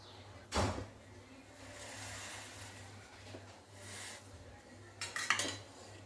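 An iron kadhai handled in a home kitchen while making a paneer dish, with a sharp metallic clank near the start and a cluster of rattling clinks near the end over a low steady hum, no talking.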